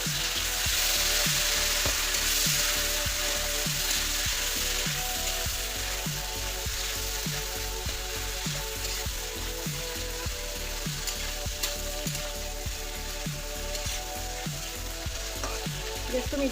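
Chopped tomatoes and cashews fry in a pan over a medium gas flame, giving a steady, close sizzle with regular scraping stirs throughout and no talking.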